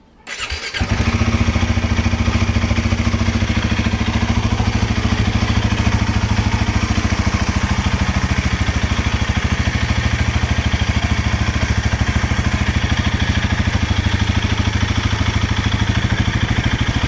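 Royal Enfield Himalayan 450 motorcycle engine starting and settling into a steady, loud, close idle with an even rapid thump, no talking.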